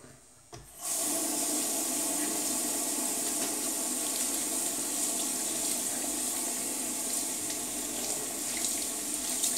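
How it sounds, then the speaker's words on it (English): Lukewarm tap water runs steadily from a faucet into a sink to rinse a brand new brush, a continuous close hiss after a brief start, with no voices. "And then rinse thoroughly."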